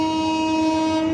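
The Tirunelveli-Purulia Express sounds its horn while passing, a loud, steady, sustained tone that fills the whole moment with no talk.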